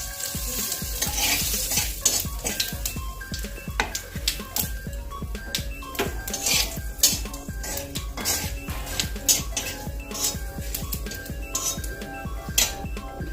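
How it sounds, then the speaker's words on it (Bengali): Panch phoron spices sizzling in hot oil in a kadai, a close, steady crackle punctuated by frequent sharp clinks and scrapes of a utensil stirring against the metal pan, with no voices. "পাঁচফোড়নটা কড়াই দিয়ে দিচ্ছি।"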